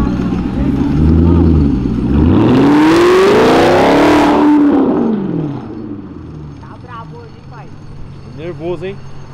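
A turbocharged Honda Civic Si built to 600 hp revs hard, its engine climbing and falling in a loud sweeping roar over several seconds before settling, with voices talking over it.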